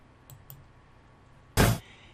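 A single crisp mouse click on an Enable button, close and short, following a couple of faint lighter ticks in a quiet room.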